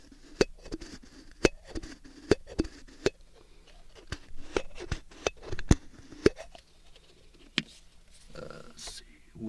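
Lid sounds made with ASMR props: sharp, close clicks and taps from a lid, irregularly spaced with quieter rustling between them, ending in a brief scraping shuffle.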